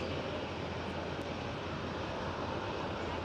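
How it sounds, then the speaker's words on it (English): Steady, moderate engine rumble and hiss from an Air Transat A321neo jet taxiing toward the gate at Amsterdam Schiphol, continuous and even with no voices. "Just arrived and taxiing towards the gate. There goes the Air Transat A321neo."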